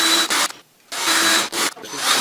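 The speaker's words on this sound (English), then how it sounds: "Take our pilot hole bit and our drill." A drill fitted with a pilot-hole bit bores into the wooden frame of a homemade acoustic panel. It runs in close, loud bursts with a short pause and a quick stop between them, and no voices are heard.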